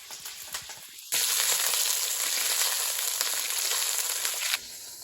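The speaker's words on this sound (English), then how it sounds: "I've moved the frying pan here with the chicken in" Chicken sizzles loudly in a frying pan on a stove, a bright steady hiss that bursts in suddenly after a quieter stretch and cuts off sharply again, with light clatter around it.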